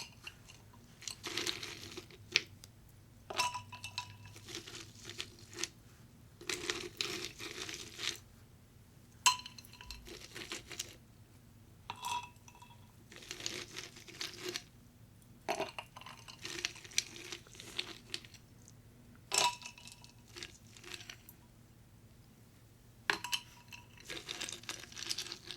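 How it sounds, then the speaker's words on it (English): Ice cubes dropped one after another into partly filled tea cups at a close binaural tea party, giving crisp crunches and clinks in scattered bursts over a quiet background. "I purposely didn't fill the cups all the way up because I knew I had to put ice"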